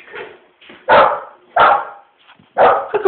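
Indoor dog barking: three loud, sharp barks spaced about a second apart, with softer yips and whimpers between them, close by and without talk.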